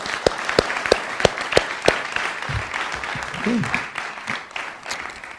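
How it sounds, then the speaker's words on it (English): At a school board meeting, a few sharp, evenly spaced nearby claps lead into general applause from the audience for the district's coaches, with some low voices mixed in under the clapping. "So if we could just give the coaches again a round of applause."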